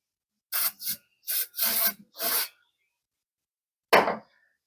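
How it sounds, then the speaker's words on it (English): Brake cleaner sprays from an aerosol can in a garage while a 1955 Chevy Nomad gets a modern engine upgrade: five short close hissing bursts in quick succession, a pause, then one more brief spray. "Brake clean."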